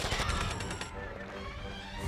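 Video game gunfire comes as a rapid burst of rattling shots in the first second, then fades into a low rumbling aftermath.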